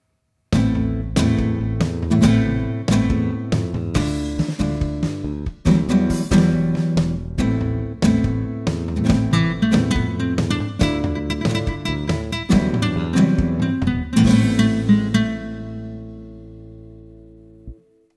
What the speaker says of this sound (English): This is a nylon-strung acoustic guitar virtual instrument